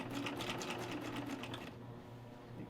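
Serger sewing machine stitching fabric up to its cutting blade, a fast close mechanical whirring chatter that runs steadily and then stops, leaving a quiet hum.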